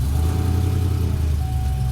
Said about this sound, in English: You can hear that cam.